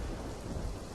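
Heavy rain pours steadily under a deep rumble of thunder in a movie scene, a dense, continuous wash of loud noise with no voices.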